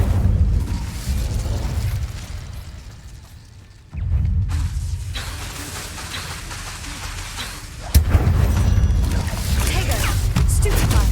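Fire spell blasts in Hogwarts Legacy gameplay, a heavy roaring burst with dense low rumble, a dip and then fresh loud eruptions around four and eight seconds, sustained and booming throughout.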